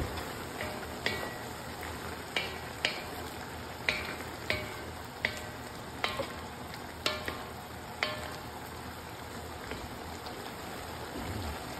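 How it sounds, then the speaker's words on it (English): Onions fry in a pot for Cuban-style beef stew, a constant soft sizzle with a regular series of spoon taps and scrapes roughly every half second to second as they are mixed. "After 3 minutes, we add the onions. Mix again."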